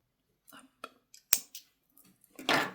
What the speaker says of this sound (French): on va couper le fil et cacher ce fil là